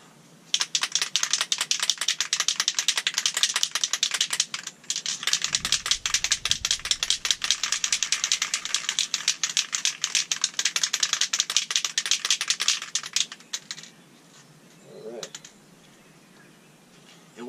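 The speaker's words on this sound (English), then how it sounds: "go ahead and rack that ball around in there for at least a minute" A mixing ball rattles rapidly inside a spray paint can being shaken hard for an outboard motor repaint, a dense continuous clatter for about thirteen seconds, then brief handling noise.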